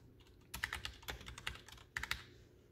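Mechanical keyboard, a Ducky Year of the Rat with Cherry MX Silver switches, typed in a few quick clustered keystroke bursts with soft thuddy clacks, close but fairly quiet.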